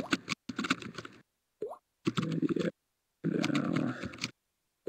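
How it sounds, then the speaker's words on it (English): Close, fairly loud computer keyboard typing in choppy bursts separated by abrupt silent gaps, the keystrokes blurring into dense clatter, with no talking. "I'm gonna just type it real quick."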